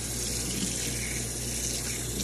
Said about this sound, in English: I'm gonna add some water to this pan right here.